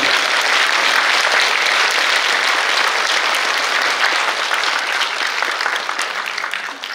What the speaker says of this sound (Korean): 마지막까지 수고해주신 이화선 작가님께 큰 박수 부탁드립니다.